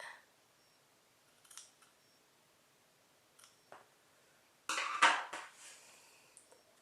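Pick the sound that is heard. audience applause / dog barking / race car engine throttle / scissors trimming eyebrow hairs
scissors trimming eyebrow hairs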